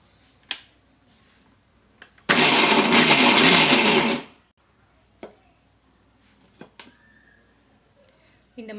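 A mixer grinder whirs loudly for about two seconds, grinding almonds, soaked cashews and poppy seeds into a coarse paste, with short clicks and knocks before and after the burst.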